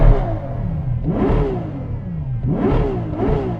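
Ferrari 812 Superfast 800-horsepower 6.5-litre V12 revved three times in quick succession, each loud rising snarl falling back to a rumbling idle, with no voices.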